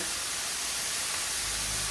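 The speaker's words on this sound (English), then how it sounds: "when the lime juice hits, it starts to sizzle" A steady, hissing sizzle of lime juice hitting a hot pan of fajitas, close and continuous, with a broad crackling texture and no talking.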